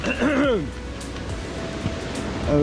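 A car drives through deep standing water, a loud broadband wash and splash spreading for a couple of seconds, with people's voices and exclamations over the start.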